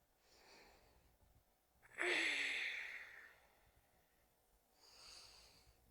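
Slow, deep breaths during a mobility workout: a quiet inhale, then one loud, close exhale like a sigh, followed by a softer breath a few seconds later.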